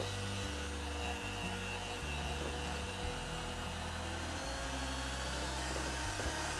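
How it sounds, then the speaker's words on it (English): An electric mixer runs at high speed creaming a mixture, a continuous close motor whine with a low hum that wavers and pulses steadily the whole time, alone with no talking. "Now that it's creamy, I can up the mixer speed and really let this cream up for a good minute or two."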